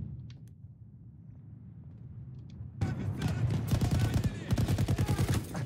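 Gunfire in Battlefield 1 during a 16v16 hardcore Conquest match: after a quiet stretch of distant pops, rapid automatic bursts erupt and continue loud and dense through the rest of the clip.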